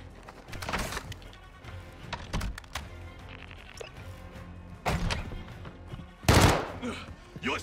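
Gunfire in Call of Duty: Warzone 2.0 comes in several loud, close bursts and single shots with thuds between them, mixed with game sounds and some speech.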